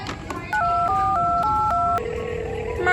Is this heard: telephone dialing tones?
yes